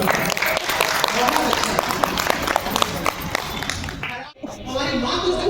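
Loud, dense applause from a meeting crowd gathered for the Uttarayani Kautik 2026 silver jubilee event in Lucknow, steady and sustained, briefly cutting out near the end before resuming.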